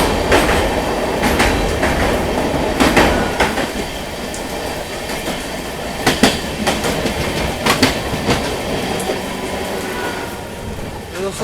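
An Amrit Bharat Express from Delhi to Gaya rumbles along while overtaking an EMU, with a loud continuous roar and rhythmic clickety-clack of wheels over rail joints, heard from on board.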